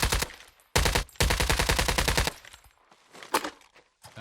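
Slow-firing gun in Call of Duty Mobile, heard as several close bursts of rapid shots, with a long burst in the middle and sparser single reports toward the end.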